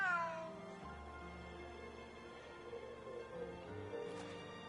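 Cats meow on a video game beach, drawn-out, wavering cries at moderate loudness over a quiet game backdrop of sustained musical tones, with no talking.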